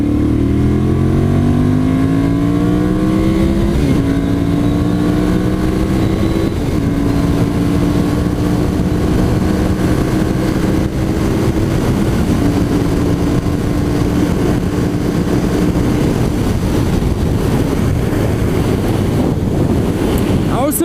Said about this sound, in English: The acceleration on this bike's pretty good.